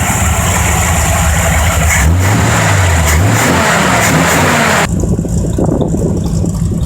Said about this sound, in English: 4100 carburetor runs real good.